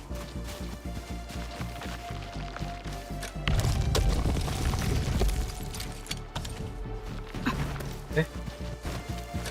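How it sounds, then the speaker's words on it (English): In Arknights Endfield, a game machine shreds Originium ore to powder with a surge of crunching, grinding noise that swells mid-clip over a steady rhythmic thumping backdrop. "I say it's time to shred some Originium ore to powder."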